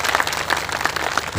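A crowd at a political gathering at a farmhouse in Faridabad applauds steadily, dense clapping filling the short moment at moderate loudness with no voices over it.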